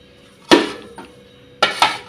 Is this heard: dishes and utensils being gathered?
yes